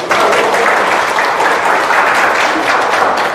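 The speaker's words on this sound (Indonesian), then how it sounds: "Tepuk tangan dong buat TR90." An audience at a motivational seminar claps continuously in dense, steady applause that fills the room, loud and sustained throughout without voices.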